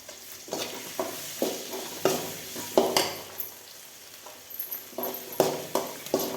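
Ginger garlic paste frying in a pan for Tamil chicken curry, a soft sizzle broken by repeated scraping stirs of a spoon against the pan, close and fairly quiet, with no talking.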